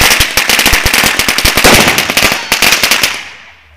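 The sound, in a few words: firecracker exploding on New Year's Eve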